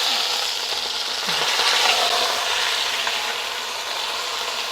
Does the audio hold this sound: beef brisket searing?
yes